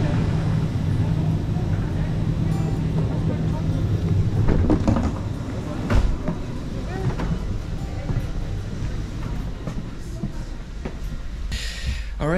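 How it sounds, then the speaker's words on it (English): Inside a moving train in the Netherlands, a steady low rumble of wheels and carriage noise continues throughout, with a few faint knocks and clatters and voices in the carriage. "Alright, so we are on the train."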